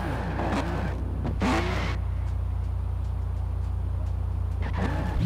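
A car from Cyberpunk driven in Forza Horizon 4 holds a steady engine drone with brief surges of revving, loud and continuous throughout.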